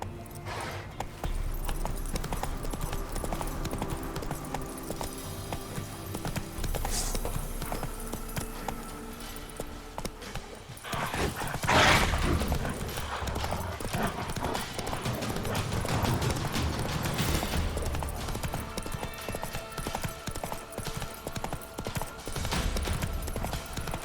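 Roach, Geralt's horse in The Witcher 3: Hearts of Stone, gallops steadily, with rhythmic hoofbeats clopping continuously for the whole stretch over a busy game soundscape, briefly louder around the middle.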